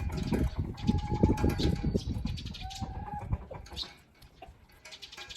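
Hens cluck and murmur continuously nearby, a busy overlapping chatter of fowl with a few louder calls, fading slightly toward the end.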